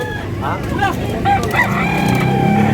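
A bullstag rooster at a Tabunok, Cebu market crows nearby in a wavering, drawn-out call, with other fowl faintly around and background chatter.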